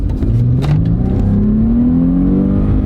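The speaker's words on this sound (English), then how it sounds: "that's a nice sounding, nice shifting car" A Mercedes car accelerates hard, engine pitch climbing steadily then dropping briefly with a gear shift before rising again, loud and close with a mechanical whir underneath.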